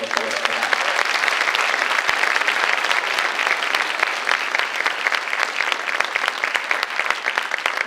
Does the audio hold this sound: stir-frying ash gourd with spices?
no